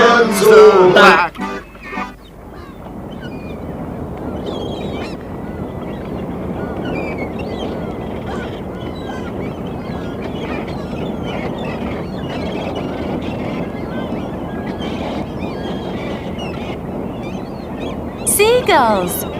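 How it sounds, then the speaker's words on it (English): Cartoon seagulls call in a steady, busy chorus of cries for most of the stretch, with a brief louder burst near the start and again at the end, in an animated Pocahontas film. "Seagulls! I have seen seagulls."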